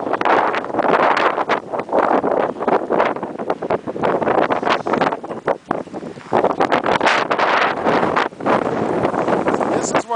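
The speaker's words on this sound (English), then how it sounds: "Wind gusts or 50 miles per hour." Blizzard wind gusting at about 50 miles per hour buffets the microphone in a loud, continuous roar that surges and dips in waves over the whole stretch, with a voice faintly heard under the noise.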